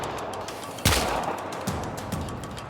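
Gunfire in the video game Warframe: a sharp burst near the start followed by a few lighter shots over a steady noisy game background, no talking.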